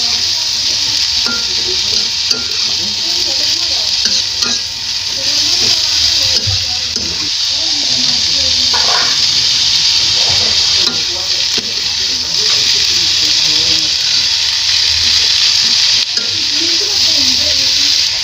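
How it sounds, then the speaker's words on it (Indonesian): Tomatoes and chilies stir-fry in a hot pan for a potato-chicken roulade dish, a steady loud sizzle running throughout with scraping stirs and occasional clinks, and no talking over it. "Masukkan tomat dan lombok. Lalu tumis."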